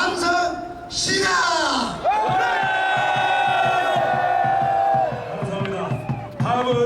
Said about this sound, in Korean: 그런 의미에서 제가 시작 그러면은 3초간 함성 한번 하겠습니다.